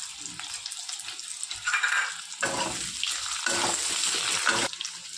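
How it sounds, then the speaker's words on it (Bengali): Potatoes with turmeric and salt frying in oil left over from frying eggs for an egg curry: a close, steady bubbling sizzle that surges louder as they are stirred, no talk. "এখন ওই তেলেই এই আলুগুলো ভেজে নেব।"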